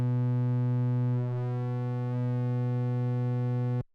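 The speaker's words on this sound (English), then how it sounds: "And now we have a bit of a square wave situation, right? That was a sine wave, right?" A pure sine tone is pushed through Cytomic The Scream's clipping until it flattens into a buzzy square-like wave, a steady loud harmonic-rich drone holding for about four seconds before cutting off abruptly.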